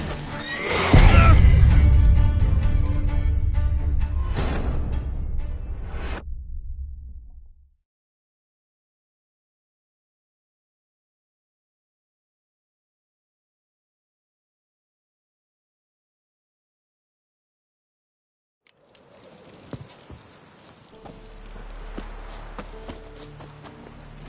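The horse Roach in a video game, loudly neighing and trotting at the start, the sound cutting to silence partway through, then faint hooves and movement returning near the end.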